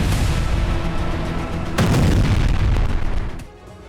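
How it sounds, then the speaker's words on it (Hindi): Loud blasts tied to car bombs on the streets of Iran, a dense rumbling roar that surges sharply about halfway through before fading near the end, with no talk. "ईरान की सड़कों पर अचानक कई ब्लास्ट हुए हैं।"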